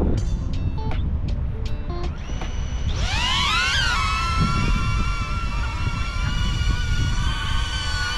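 DJI Neo drone taking off: a few faint beeps and clicks, then the propellers spin up into a loud, rising whine that settles into a steady high buzzing hum, with wind and a blower roaring underneath.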